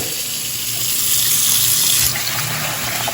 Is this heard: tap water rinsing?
yes